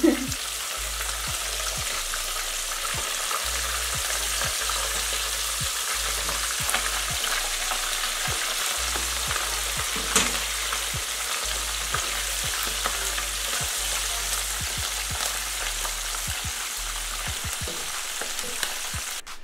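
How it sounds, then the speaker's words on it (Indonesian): Boiled Indonesian bakso meatballs frying in hot oil, a loud, steady, close sizzle that runs throughout, broken by scattered small pops and occasional stirring clicks, with no talk. "Nah sekarang kita akan goreng bakso."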